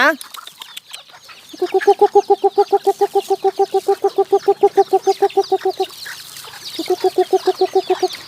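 Bantam chickens on a Thai farm, some ranging in woodland, give a long run of rapid, rhythmic clucking calls, then a shorter burst after a pause, with some background bird chatter.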